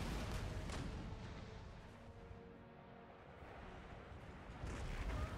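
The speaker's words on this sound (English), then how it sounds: "here we can see the effects of enemy mortar barrage ourselves" Mortar barrage explosions in the strategy game Empire: Total War, heard as a continuous low rumbling roar of distant blasts with sharper bursts near the start and end, no talk over it.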